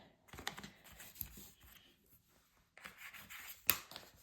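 Soft scraping and rubbing of a bone folder burnishing and creasing paper, a few quiet brushing strokes with small taps, close and faint.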